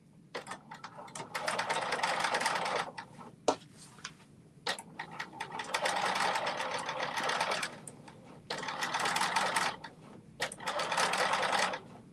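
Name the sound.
sewing machine sewing a gathering stitch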